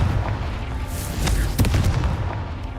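Booming explosions from the Confringo fire spell in the Hogwarts Legacy video game, a couple of loud low blasts with crackling bursts over a rumbling in-game background.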